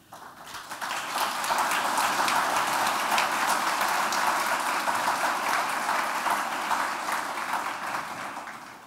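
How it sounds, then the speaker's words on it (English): An audience at a public lecture claps together after a speaker is introduced, the applause swelling in over the first second into an even, continuous patter that carries on at a moderate level. "As I see you clap and hear you clap"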